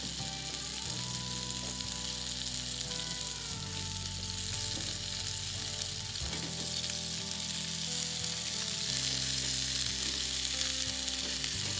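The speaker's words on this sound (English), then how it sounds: "we're gonna lay it into our hot pan. Listen for that sizzle." A constant hot-pan sizzle of a boneless skinless chicken breast hisses steadily and up close, with faint music playing in the background.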